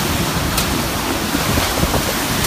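Hurricane Harvey's eyewall winds roar in Texas, a loud and constant broadband rush of gusting wind that fills the whole clip without letting up. Nobody speaks.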